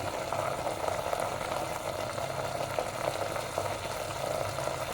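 Ground spices, turmeric, Kashmiri chilli, coriander and black pepper, sautéing in a pan for mutton paya, a continuous soft sizzling and bubbling hiss at moderate level with no talking.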